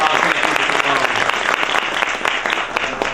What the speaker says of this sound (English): let's hear a little round of applause for these folks